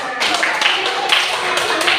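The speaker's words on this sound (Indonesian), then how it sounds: "Tepuk tangan untuk kita semua." Schoolchildren in an Islamic primary school classroom clap together in a rhythmic, patterned group clap, loud and close, with sharp bursts repeating at regular intervals.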